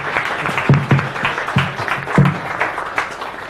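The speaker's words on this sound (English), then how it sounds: "Give him a round of applause." Audience applause for a speaker at a leadership talk, a dense burst of clapping from a room of people that swells and sustains throughout, fairly close and loud, with no speech over it.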